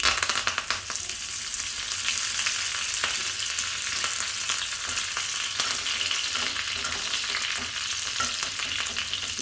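Curry leaves dropped into hot oil with popped mustard seeds, a loud continuous sizzle and crackle up close, with a few stirring scrapes and no talking.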